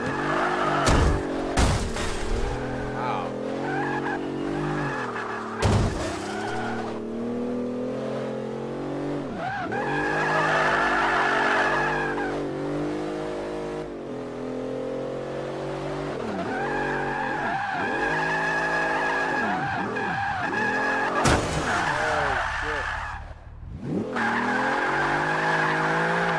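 A Bentley Continental drifting, engine revving in long swells while the tires squeal and skid loudly and close by, with a few sharp thumps along the way.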